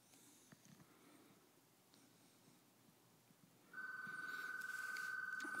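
A VoIP phone on an Asterisk mesh network rings with a steady electronic warble that starts partway through, after quiet room noise, and continues loud and unbroken to the end.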